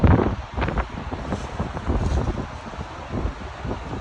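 A J&D Extreme Air POW240SC wall-mount fan blowing outdoors, producing a steady rushing, buffeting roar of moving air close to the microphone.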